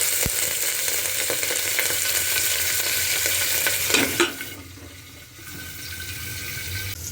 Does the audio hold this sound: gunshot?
no